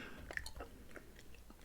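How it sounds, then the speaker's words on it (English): Quiet, close chewing of a fruit-filled Ukrainian candy, a series of soft sticky, slightly crunchy bites spaced irregularly with no talk. "Let's start chewing it."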